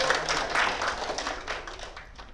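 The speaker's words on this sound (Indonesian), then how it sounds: "Kita berikan tepuk tangan untuk Pak" A group claps for a teacher during a micro-teaching session, a soft, fairly distant patter of hands that stays even and gently tapers off.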